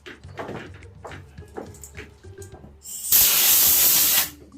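Compressed air blasts sawdust off a freshly sanded wooden surface in one loud, steady hiss lasting about a second, after a stretch of quieter shuffling and handling noises.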